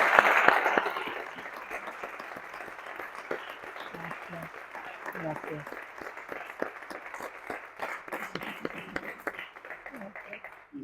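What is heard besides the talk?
audience applause at book presentation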